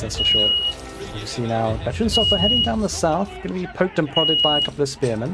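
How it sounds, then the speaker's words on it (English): Beeping alarm going off in a room, short high electronic beeps repeating about every two seconds at moderate level beneath continuous talking. "That is one of my alarms which I can't turn off right now."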